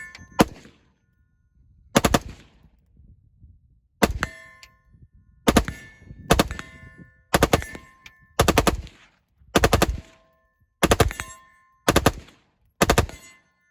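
An M4 rifle in Modern Warfare 3 fires about a dozen single shots at a slow, uneven pace, each a sharp, loud crack with a bright metallic ring, with quiet gaps between and no talking.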